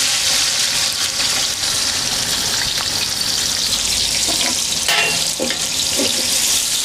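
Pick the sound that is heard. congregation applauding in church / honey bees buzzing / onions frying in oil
onions frying in oil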